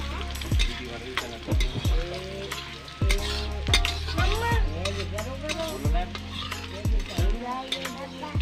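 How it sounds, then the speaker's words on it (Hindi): Cumin seeds frying in hot oil for a taro-leaf curry, a steady sizzle running beneath a voice that talks throughout, with occasional spoon clinks. "अब तेल गरम हो चुका है, और थोड़ा सा हमने इसमें जीरा और रख लिया है। अब हम इनको अच्छे से भून लेंगे।"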